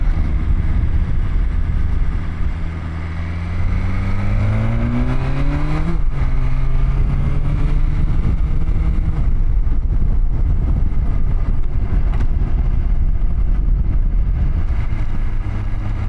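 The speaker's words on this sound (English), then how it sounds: "I'm purposely undershifting so I can tap into this power band I've heard about" A 2020 BMW S1000XR motorcycle engine accelerates hard onto an interstate, its pitch climbing through the gears with a shift near the middle, loud and close over steady wind rush.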